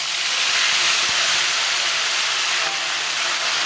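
Ginger and green chili paste hits hot oil already seasoned with dried red chili and bay leaf, giving a steady, loud broadband sizzle and hiss that holds evenly throughout without talk.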